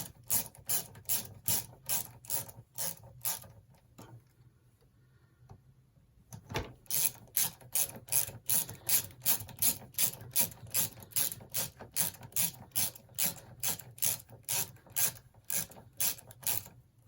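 A ratchet with an extension undoes bolts on a Peugeot Speedfight 4 scooter, giving fast, even clicking strokes close by. A brief pause breaks the rhythm before the steady clicking resumes, with no talk.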